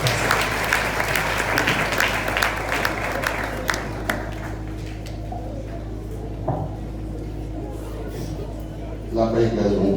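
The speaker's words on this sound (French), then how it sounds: "Bon applaudissement." A church congregation claps in a burst of applause that fades after a few seconds, leaving a low steady hum and a few scattered sounds in the room.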